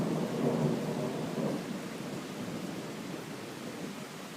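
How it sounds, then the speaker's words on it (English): Distant thunder grumbles and swells twice during a late-night thunderstorm in Riga, rolling low beneath a constant wash of rain before settling into steady rainfall. "Yep, and there's the thunder."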